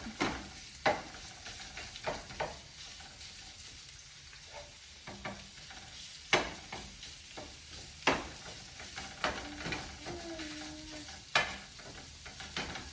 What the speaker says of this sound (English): We'll just mash it up. You want to cook it until it's almost all the way cooked through and browned up.